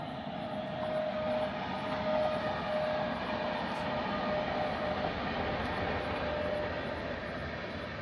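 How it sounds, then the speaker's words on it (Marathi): A train passes near the expressway at Lonavala, a steady distant rumble and rolling roar that holds throughout, with a faint whine and light chirping over it and no talking. "हे बघा, आता ही दुसरी ट्रेन आली."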